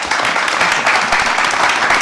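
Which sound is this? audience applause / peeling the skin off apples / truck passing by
audience applause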